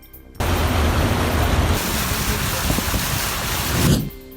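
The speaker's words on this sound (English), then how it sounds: "Streets of Cairo are flooded after heavy rains hit the country." Heavy rain on flooded Cairo streets, a loud dense steady hiss that cuts in abruptly and runs for about four seconds before stopping, with no talk.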